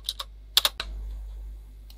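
Computer keyboard keys tapped while editing text in Vim: a handful of crisp, close clicks in two quick clusters, then a steady low electrical hum with near silence.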